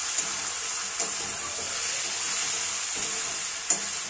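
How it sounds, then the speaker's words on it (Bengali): Jamaican brown stew chicken in an open pot, simmering with a steady bright hiss while a spoon stirs it, giving a few faint clinks against the side. "ঢাকনাটা তুলে নিয়ে আমরা সব কিছু ভালোভাবে একটু নাড়াচাড়া করে নেব।"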